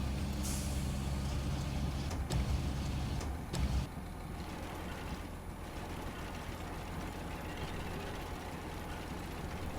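A truck in the SnowRunner video game deploying its crane to flip another truck over, heard as a low engine rumble with a sharp hissing release and mechanical clunks early on, then a steady idling drone.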